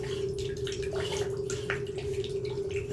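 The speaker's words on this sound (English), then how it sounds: "it looks like the toilet flush fully went through there at this point" Toilet flush water draining through a sewer line, heard as faint continuous gurgling and trickling with a low steady hum underneath.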